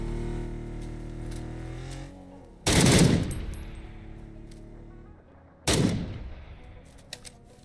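Gunfire in PUBG on console, two loud close blasts a few seconds apart, each ringing out into a long decaying echo, with a low vehicle-like rumble fading beforehand.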